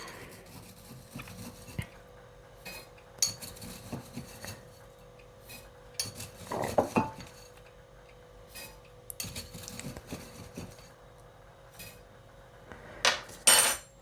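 Porcelain clinks and light knocks as a big teapot and tea dishes are handled while brewing Jade Oolong Rose tea, scattered irregular taps and scrapes at close range, with a couple of sharper clatters near the end.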